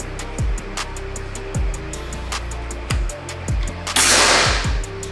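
One loud, crisp report from a Gousuto Oria V2 air rifle near the end, preceded by a run of lighter rhythmic clicks and dull low thuds close by.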